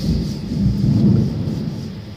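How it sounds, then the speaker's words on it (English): Thunder rumbles loud and deep throughout a lightning storm, a continuous low roll with rain noise, heard from a vehicle on the highway. "All kinds of lightning around here. A little bit of thunder."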